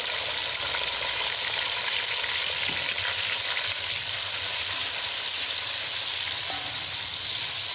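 Mixed vegetables with garlic and chopped tomatoes fry in a pan, giving a steady, close sizzle that holds evenly throughout, with faint stirring scrapes now and then.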